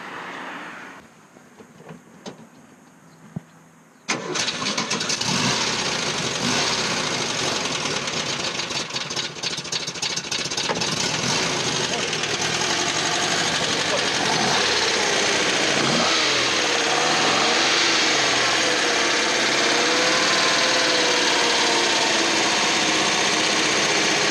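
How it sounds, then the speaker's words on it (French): A Porsche 356B engine cranking and catching, then running steadily at a loud, rough idle with some revving, close by and without talk. "ta 356, est-ce que tu veux bien me la démarrer?"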